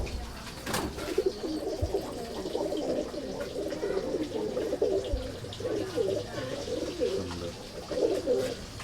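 Madrasi pigeons coo in soft, repeated rolling calls at a steady pace, close and continuous, with a sharp click near the start and faint background chatter.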